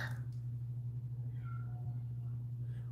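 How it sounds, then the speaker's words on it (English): A cat gives a few faint, distant meows that rise softly above a steady low room hum, with no voices nearby. "Why is that cat crying?"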